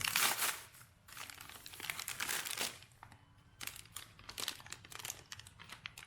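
A small yellow paper envelope with Chinese writing, holding a motorcycle pressure switch part, is handled and opened with close, soft crinkling and tearing rustles in uneven bursts.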